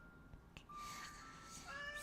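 A house cat meows softly indoors, two faint drawn-out meows in a quiet room with no talking.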